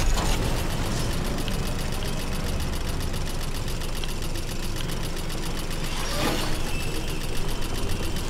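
A tank engine in the video game Fortnite, a steady, loud mechanical chugging and rattling drone that runs continuously, with a brief extra clank partway through.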